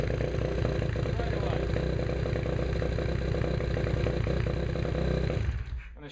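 A four-valve motorcycle engine runs close by at a steady, loud, rough idle, its even chugging broken only by a brief drop as it cuts out near the end.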